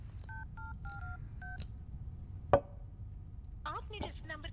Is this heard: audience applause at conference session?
no